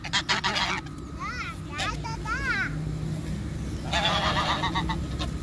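Geese being fed by hand in Guayaquil honk loudly and repeatedly up close in several bursts, mixed with people talking and a voice.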